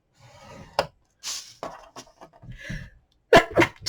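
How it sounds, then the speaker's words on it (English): A person sneezes indoors while scoring paper for a sweet-treat gift box, with quiet breathy build-up and small rustles before one loud, sharp sneeze bursts out close by near the end. "I'm going to sneeze."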